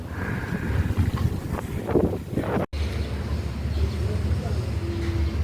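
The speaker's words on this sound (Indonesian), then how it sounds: "Anginnya cukup kencang" Strong wind by the sea at Rumah Si Pitung buffets the microphone with a constant low roar, broken by a brief dropout midway, and some indistinct voices underneath.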